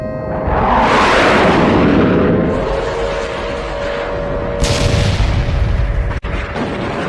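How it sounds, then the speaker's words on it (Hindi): Artillery fire and missile explosions in the war in Ukraine make heavy, rumbling booms that swell loudly and fade, with a sharp crack near the end and no voices. "भीषण युद्ध चल रहा है, मिसाइलें चल रही हैं"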